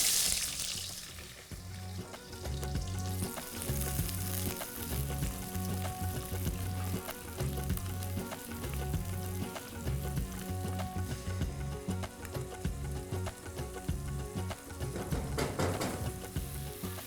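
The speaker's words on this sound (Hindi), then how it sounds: "प्याज को हल्का सा सौते किया है, बस कच्चापन मारा है प्याज का" Onion and cumin sautéing in a pan, a continuous close sizzle with a steady rumbling hum throughout, a burst of hiss at the start and near the end, no voices.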